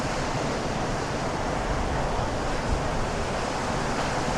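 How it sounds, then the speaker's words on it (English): Strong, steady wind roars across a beach, buffeting the microphone with constant low rumble and broadband hiss, like surf, for the whole stretch with no voices. "it is very windy if you can't tell"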